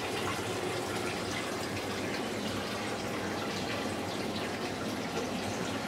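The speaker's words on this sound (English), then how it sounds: "And as you can see, the tank is filling up with water." Water pouring steadily into a 130 gallon coral reef aquarium as it fills, a continuous loud gushing rush with no pauses and no voices.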